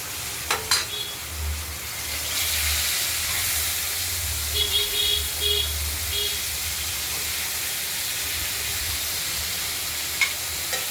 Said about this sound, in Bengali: এগুলোকে একটু ভাজা ভাজা করে নেবো।